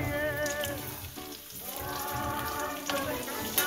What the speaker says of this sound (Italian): Senti come sfrigola lì